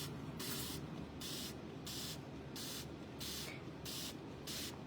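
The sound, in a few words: misting spray bottle spraying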